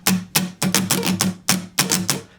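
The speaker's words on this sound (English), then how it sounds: "There was a time when I used to strum pretty rigidly and the artistry went right out the window." Steel-string acoustic guitar strummed in a stiff, rigid pattern: eight or so sharp, evenly spaced strokes, loud and close, with short decays between them and no voice.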